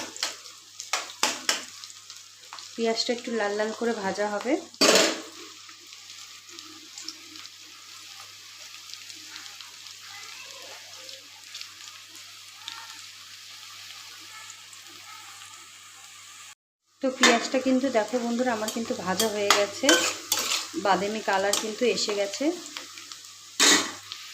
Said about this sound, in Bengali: দেওয়ার পরে কিন্তু পেঁয়াজটা লাল লাল করে ভাজতে হবে